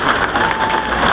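Crowd applause at a political rally, a dense steady wash of clapping filling the whole moment without any voices rising above it.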